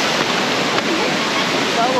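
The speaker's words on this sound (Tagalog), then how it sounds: "Okay, waterfall." Water pours steadily at the Cold Spring waterfall in Sorsogon, a loud, dense rush with people's voices faintly in the background.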